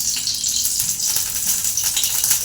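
Oil poured into a hot pan for a fish curry sizzles with a bright, crackling hiss, close and fairly loud, with faint rattling clinks beneath.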